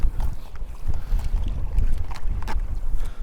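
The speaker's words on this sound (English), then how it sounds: "Boy oh boy, it's windy." Gusty wind buffets the microphone in uneven low rumbles while kayak fishing, with faint water sounds mixed in and no one speaking.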